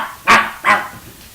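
Two sharp, loud dog barks in quick succession, close by, followed by a faint trailing yelp.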